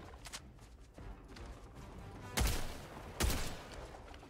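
Shotgun blasts in Helldivers 2 amid distant battle gunfire, with two loud, separate booms standing out about a second apart.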